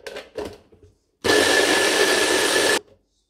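A blender whirring through frozen berries for a fruit sauce, one loud, steady burst of motor noise lasting about a second and a half after a couple of short rustles.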